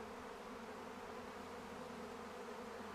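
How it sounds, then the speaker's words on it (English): A large mass of honey bees at a beekeeper's hive hums in a steady, even drone that stays constant and faint throughout, with no voices over it. "just to see this many bees en masse"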